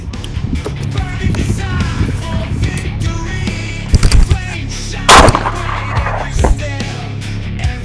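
A shotgun with a choke fires at a target outdoors, giving a few loud, sharp blasts over background noise and rustling.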